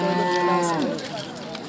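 A single cow moos loudly and close at a livestock market with fattened oxen and cows for sale, a sustained low call that bends down and fades in about a second.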